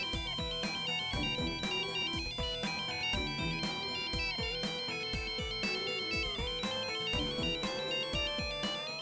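A mobile phone ringtone plays during a French-dubbed drama scene: a loud, steady melodic tune with regular repeating beats that runs unbroken for the whole stretch, with no one speaking over it.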